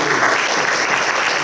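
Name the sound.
audience applause for readers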